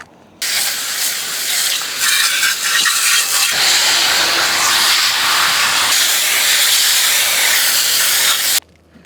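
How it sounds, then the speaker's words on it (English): Water sprays hard onto an old, worn 1970 Mustang radiator supposedly sold as new old stock, a loud steady hiss that starts abruptly and runs almost nine seconds before cutting off. "I'm gonna go ahead and spray off this 70 Mustang radiator"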